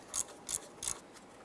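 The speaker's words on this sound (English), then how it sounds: "I'm going to spin this bolt out." Ratchet wrench on an extension spinning a bolt out of a 2007-2012 Nissan Versa front wheel bearing and hub assembly: three short, bright clicking bursts at an even pace, close and fairly quiet.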